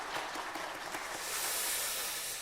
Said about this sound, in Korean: 앞으로 좋은 앞길이 열리고 하나님의 은혜가 함께 하시도록 격려의 박수 같이 하겠습니다.